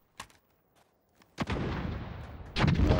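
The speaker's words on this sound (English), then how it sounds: "I see the bullets flying inside." Gunfire in the Warzone battle-royale shooter: a few sharp, faint shots early, then a loud, sustained burst of rapid fire that swells again near the end, with no talking.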